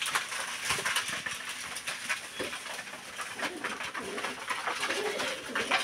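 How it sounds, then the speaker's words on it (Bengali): Pigeons on a farm coo at feeding time, with soft overlapping calls and flutters from several birds close by, over a busy, hissy background. "সব কবুতর নিচে নামে গেছে"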